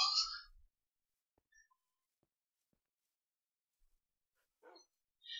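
Dogs barking in the Minecraft video game, a short bright burst at the start and another brief one near the end, with near silence and a few soft clicks between.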